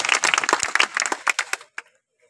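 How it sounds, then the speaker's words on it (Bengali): An audience claps at a BNP union political gathering in Ashulia. A brisk burst of clapping lasts over a second and a half, then thins to a few scattered claps before silence. "সবাই একটু করতালির মাধ্যমে।"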